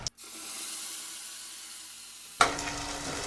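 Onion paste dropped into hot oil for a Bhavnagar dal puri curry, a loud sizzle that fades to a steady hiss, then a sharp fresh burst of frying near the end.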